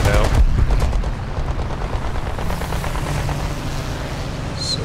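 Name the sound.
Gladiator MK II aircraft guns firing in War Thunder video game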